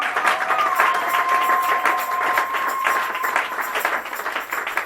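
Congregation in a church clapping and cheering in praise for Jesus, a steady mass of applause throughout, with a sustained tone ringing through the middle.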